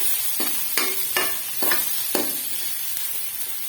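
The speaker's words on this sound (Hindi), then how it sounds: "प्याज हम फ्राई करेंगे।" Onions frying in hot ghee in a pan for kofta curry, a steady close sizzle broken by several sharp scraping strokes of a spoon stirring them, with no talk.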